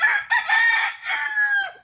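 A Texas rooster crows loudly and close, one long drawn-out cock-a-doodle-doo lasting nearly two seconds, alone with no talk over it.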